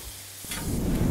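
Beef goes into butter on a griddle for Philly cheesesteak, and a sizzle swells suddenly from a low hum into a loud, dense hiss that holds for the brief moment that follows.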